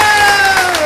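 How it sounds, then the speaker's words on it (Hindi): A crowd at a Guru Purnima Vyasa-puja religious gathering, a loud, dense burst of clapping and cheering up close that fills the short moment with no pause. "तो इसलिए एक बार जोरदार ताली"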